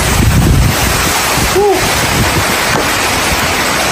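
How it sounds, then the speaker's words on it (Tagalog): Strong typhoon wind roars and buffets against the microphone with heavy, driving rain, a constant rush, loud and close throughout. "Naabutan po kami ng hangin dito guys, oh, ng ulan, lakas ng ulan guys"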